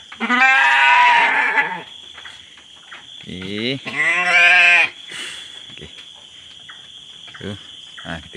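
Goats in a pen at night give two long, loud, wavering bleats close by, followed by fainter calls and a steady high chorus of insects throughout.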